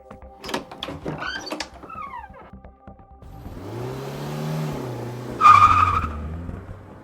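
A stolen car pulls away, its engine rising as the tyres skid and squeal. A few sharp knocks come first, then a revving surge that peaks near the end.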